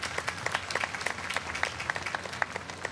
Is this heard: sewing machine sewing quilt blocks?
no